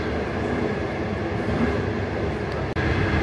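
A slow public-service passenger train of China Railway's Chengdu bureau rolls along, heard from inside as a continuous loud rumble with a steady rail roar and one sharp brief click near the end.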